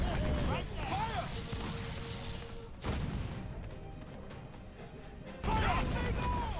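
Broadside cannon fire from sailing ships in Assassin's Creed Freedom Cry, a series of loud booming blasts and crashes, with the heaviest bursts near the start, around 3 s and again near the end, over shouted voices and battle noise.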